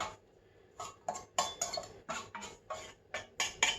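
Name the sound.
knife slicing off chocolate cake tops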